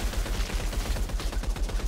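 Rapid bursts of gunfire from a weapon in the video game Outriders, a dense, continuous stream of shots with a steady pulsing rhythm, loud and close, with no talking over it.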